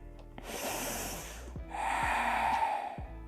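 Deep breaths during a yoga hip exercise, close to the microphone: a long airy inhale, a brief pause, then a second drawn-out breath.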